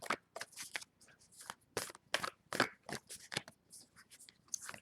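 Bulky, oddly shaped tarot cards shuffled by hand at close range, with repeated riffling snaps and rustling bursts in an uneven rhythm, heard alone without talk.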